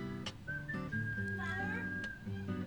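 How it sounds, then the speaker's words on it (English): A pet cat meows a few times, short tonal calls rising and falling, close by in a quiet room with a faint whistly undertone and some room noise between the calls. "Could you at least come over here and meow so people can hear you?"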